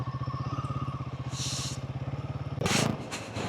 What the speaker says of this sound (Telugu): ఇంజన్ చూడండి, వేడెక్కి ఫ్యాన్ వస్తుంది